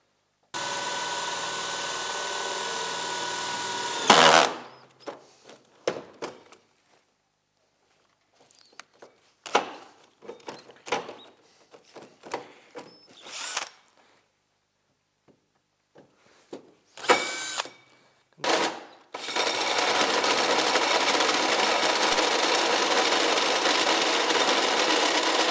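A power tool blade cutting at an angle for the ski spindles on a modified Yamaha Enticer snowmobile build, a loud, steady whining buzz at the start and again at the end, with quieter clatter and handling noises between.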